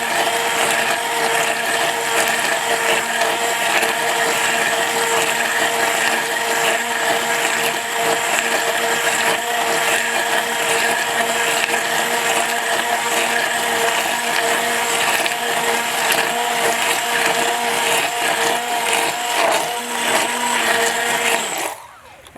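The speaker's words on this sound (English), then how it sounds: "if you want to whip it up like lotion, using an immersion blender is going to emulsify it a bit." An immersion blender whips tallow into lotion, a loud, steady motorized whir that runs continuously for about twenty seconds close by, then cuts off abruptly.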